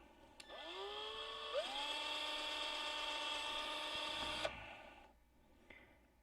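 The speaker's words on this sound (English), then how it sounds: "These pieces of wood I'm drilling here," Power drill boring holes in pieces of wood at close range, a high whine that starts, rises in pitch as the motor speeds up, runs steadily for about three seconds, then stops.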